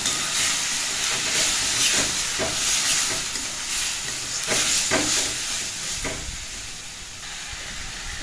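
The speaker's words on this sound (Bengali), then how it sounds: "আবার মশলাটা ভাজা হয়ে গেছে" Ground spices fry in a pan for a fish-head curry, giving a steady close hiss with faint scraping stirs throughout and no voices.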